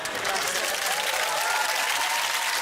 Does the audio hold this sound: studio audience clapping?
yes